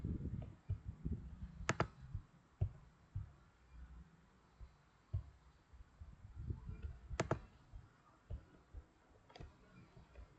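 Computer keyboard typing while configuring a router in Packet Tracer: scattered soft key clicks with a couple of sharper, louder key presses like an enter stroke, close and quiet, no speech.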